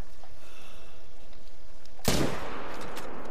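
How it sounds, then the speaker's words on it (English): A single loud rifle shot fired at a moose in a hunting video game, a sharp blast with a brief decaying tail after a quiet stretch of ambient outdoor noise. "take the shot on it"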